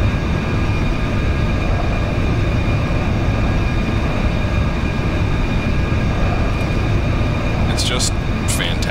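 An aircraft engine in the X-Plane 10 flight simulator drones steadily and loudly throughout, a dense unbroken roar with a faint high whine near the end.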